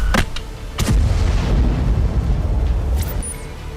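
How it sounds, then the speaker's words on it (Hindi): An explosion strikes a tank during fighting in Gaza, with sharp booming blasts at the start and again near the end over a dense, rumbling background of battle noise. "इसी सुरंग या बंकर से फिर हमला किया गया और टैंक में जोरदार धमाका हुआ।"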